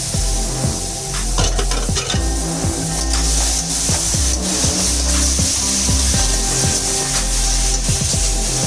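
Chicken pieces sizzle loudly in hot oil in a pan while being stirred, for samosa filling. The frying hiss is steady and close, with repeated scraping clinks of the spoon against the pan.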